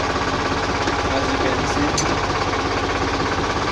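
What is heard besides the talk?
New Holland tractor engine running while driving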